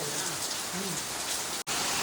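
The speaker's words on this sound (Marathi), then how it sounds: "पाऊस जोरत आहे" Steady, dense monsoon rain hisses continuously across a courtyard in Konkan, with a faint voice briefly underneath.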